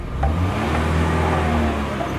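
A bus engine revs while the vehicle lacks power from a weak battery, giving a close, steady, droning hum with a slight rise at the start and no talk over it.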